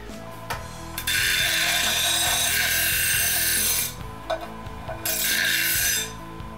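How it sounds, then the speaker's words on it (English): Notched steel tubing being deburred: two long, loud rasping grinds, the first running about three seconds and the second shorter, separated by a brief lull with small scrapes and clicks. "Now that our tubing has been deburred"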